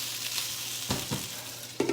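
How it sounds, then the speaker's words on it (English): Chicken pieces brown in a hot pan for a sweet-and-sour stir-fry, giving a soft, steady sizzle with a couple of brief louder bursts as the meat is stirred. "All right, I'm just gonna brown up this chicken."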